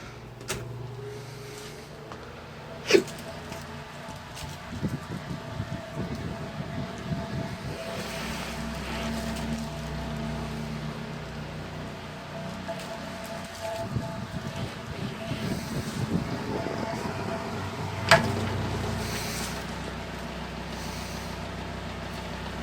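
An old electric fan in need of re-greasing runs with a steady low mechanical drone and airy whoosh, with a few sharp clicks and knocks as it struggles, close and fairly loud.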